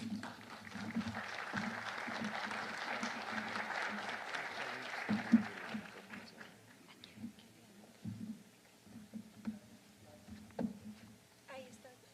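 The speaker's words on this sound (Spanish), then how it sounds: "lo recibimos con un fuerte aplauso" Audience applause at a Spanish-language talk on violence and rebuilding life projects, as a speaker is welcomed: a broad, steady clatter of many hands for about five seconds, then thinning to scattered claps.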